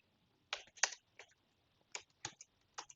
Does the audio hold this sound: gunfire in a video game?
no